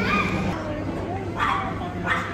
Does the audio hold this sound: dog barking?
yes